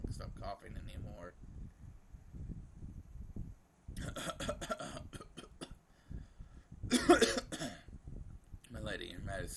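Harsh coughing bursts break out between stretches of speech in the visual novel Umineko When They Cry, the loudest cluster near the end, with game-like background sound.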